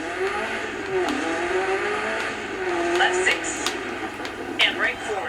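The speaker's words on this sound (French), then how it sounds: "j'essaie d'accélérer, vous voyez, et je sors de la route" A rally car in the Dirt 4 video game accelerates and runs off the road, its engine rising and falling in pitch, with brief tyre and gravel noises, while someone talks over it.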